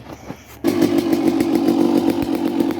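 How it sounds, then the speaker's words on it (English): Suzuki RM250 dirt bike engine, broken in over three heat cycles, fires up after a short quiet stretch and settles into a loud, steady two-stroke idle with a rapid pulsing beat, close by and with no talk. "the bike's cooled down enough now to start back up, so yeah, we'll run it for another 15 minutes"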